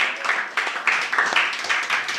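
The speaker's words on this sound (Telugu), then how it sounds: "గట్టిగా చప్పట్లు కొడదామా?" A church congregation claps together in a quick, steady rhythm, a dense and fairly loud wash of hands that runs continuously with slight swells.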